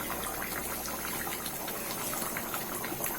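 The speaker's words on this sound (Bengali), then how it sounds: "আর দেখুন ফুটছে।" Rui fish curry with bori and potatoes bubbling in a pot, a steady dense hiss and burble of boiling liquid that stays even and close throughout.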